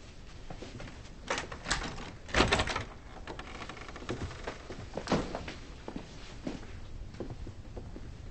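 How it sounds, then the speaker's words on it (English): A door being opened in a tense indoor scene, with scattered knocks, thunks and shuffling handling noises, including one louder clunk early on and a few sharper bumps later, all fairly close and without talk. "Now open up the goddamn door."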